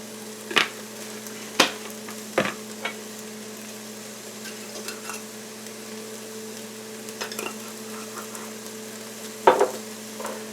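Two bags of spinach cook down in a pan, with a steady low sizzle under a few sharp scrapes and knocks of a utensil against the pan, spaced out and close, with no talk.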